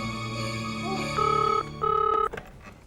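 A telephone rings twice in short electronic bursts, a steady tone before it and low background hum around it.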